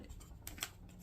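Scissors snip through wreath ribbon in a quick pair of faint, crisp cuts close to the microphone, with no talking.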